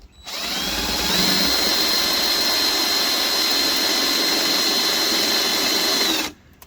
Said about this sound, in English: Drill a starter hole